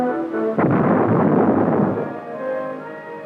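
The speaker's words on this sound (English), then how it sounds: "artillery projectiles are fired directly at the weld on each plate" An artillery projectile fired at a welded armor plate at a proving ground in Aberdeen, Maryland, hits with a single loud, deep boom that rolls on for about two seconds before fading.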